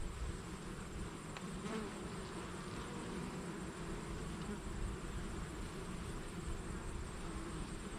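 Honey bees in an open beehive, opened for a post-treatment check, drone in a steady, dense buzz that holds at an even level from start to finish, with no voices.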